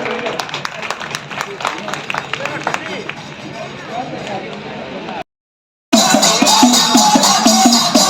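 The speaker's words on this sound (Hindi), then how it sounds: "ताली द्वारा स्वागत करें।" Audience applause welcoming a guest at a festival and forest-picnic celebration, a sustained crowd of clapping with babble, pausing briefly before a louder, dense burst of clapping.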